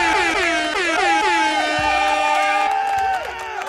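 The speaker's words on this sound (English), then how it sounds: "An air horn." Repeated blaring air horn blasts sound loudly and continuously, their pitch wavering, with crowd noise and shouting underneath.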